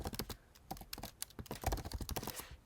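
Rapid typing on a computer keyboard, close dense key clicks in quick uneven bursts, continuous and without talk.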